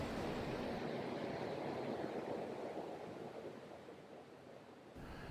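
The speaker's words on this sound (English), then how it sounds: "I am under a bridge with water running behind me" Running water rushes steadily beneath a bridge outdoors, a broad continuous noise with some wind buffeting, recorded faintly on a phone and shifting slightly near the end.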